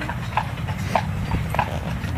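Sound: horse

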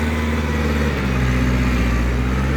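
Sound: vehicle engine revving, M5000 system

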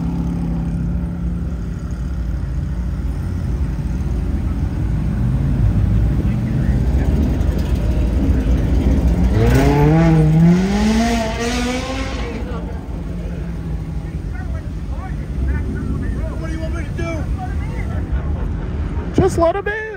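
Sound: Ferrari engine revving loudly at a car meet

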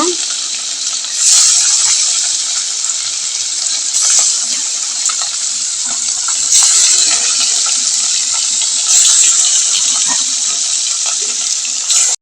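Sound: fish with turmeric and salt frying in a hot wok

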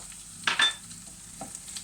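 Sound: sautéing onions and green peppers

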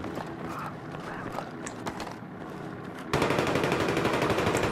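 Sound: gunfire from the video game Battlefield 3

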